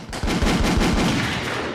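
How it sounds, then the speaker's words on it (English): Rapid gunshot sound effects rattle off in a quick burst of about eight loud cracks, close and punchy, then ring out briefly with no talking over them. "Let me get some gunshots on that one"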